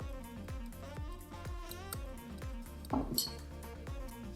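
A spoon stirs tomato paste and horseradish into a Bloody Mary in a glass, making rapid, evenly spaced clinks close by, over soft tonal background sound.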